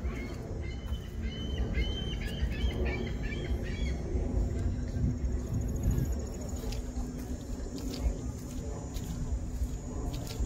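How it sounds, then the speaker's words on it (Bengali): Birds call and chirp outdoors beside a lake in late afternoon, repeated short twittering phrases over a steady background of insects and ambient noise. "পাখি"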